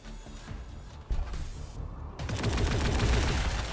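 Gunfire from Tyranid units in the strategy game Warhammer 40k: Gladius, first a muffled rumble, then dense rapid bursts of shots rising loud after a couple of seconds.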